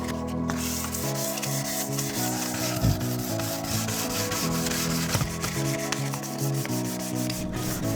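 Steady, continuous sanding rasps across a UPVC door surface for the whole stretch, close and even, with a faint rhythmic back-and-forth texture and no talking.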